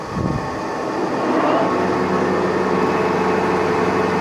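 Metal lathe running at 360 RPM, cutting a sacrificial test piece with a TaeguTec turning tool; a loud, steady, dense whirring and grinding drone holds throughout.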